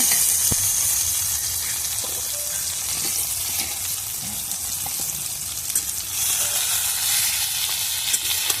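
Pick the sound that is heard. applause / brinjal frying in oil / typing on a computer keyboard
brinjal frying in oil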